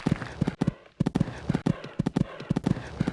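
Hooves of a show jumper in the Equestriad 2001 game, a short run of quick cantering thumps broken by a gap near a fence, close and distinct.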